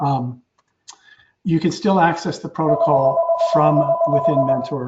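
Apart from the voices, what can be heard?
telephone ringing in the background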